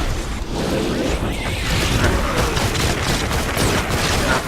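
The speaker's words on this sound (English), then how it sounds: "I have to pull out my Nova launcher." Nova launcher fired in Fortnite Save the World, Canny Valley, amid a dense continuous barrage of blasts and game effects, loud and sustained throughout.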